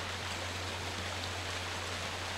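A waterfall in the video game Resident Evil Director's Cut roars as a steady, even rush of falling water with a low hum beneath, constant and unbroken for the whole stretch.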